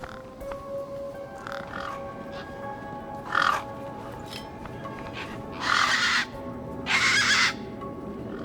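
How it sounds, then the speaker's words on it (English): Crows in the video game Beyond a Steel Sky cawing against a quiet ambient background: a few faint calls early, then one loud caw and two longer, harsh cawing bursts close by. "These were tough desert birds"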